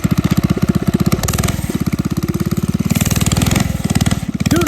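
A small mini bike engine runs in the snow, loud and close with a fast, choppy single-cylinder pulse that rises and falls in pitch as the throttle changes.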